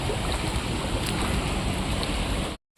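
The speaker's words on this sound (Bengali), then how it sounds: "এই দেখো বৃষ্টির পানি সব আসছে এখানে" Rainwater rushing in along a flooded road makes a loud, steady broadband wash with wind buffeting the microphone, then cuts off abruptly near the end.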